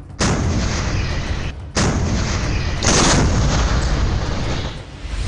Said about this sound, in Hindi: तोपों का ये डबल धमाका